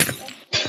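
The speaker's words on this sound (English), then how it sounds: "I'm gonna break my friend's glass." Glass breaks in a video game with a sharp, bright shatter and tinkling shards, a short pause, then a second crisp smash close and loud.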